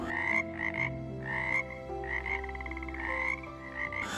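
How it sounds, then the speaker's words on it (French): Several frogs croak in repeated, overlapping bursts, loud and close, with a steady chorus running underneath and no voices. "Les grenouilles sautent dans les flaques d'eau."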